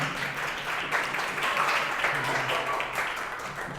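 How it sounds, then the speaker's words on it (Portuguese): Audience giving a round of applause for João at an open-air talk, a dense, steady wash of clapping from a crowd, moderately loud and sustained, with faint voices mixed in. "Uma salva de palmas para ele,"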